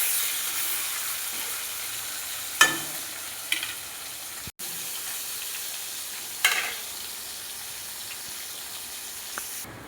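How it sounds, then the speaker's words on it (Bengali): Baul fish pieces lightly frying in hot oil before going into a sour curry: a steady, bright sizzle with a few sharp pops and spatula clicks, close and fairly quiet, with no talking. "হালকা ভাজবো, টক রান্না করব তো হালকা একটু ভেজে নেব"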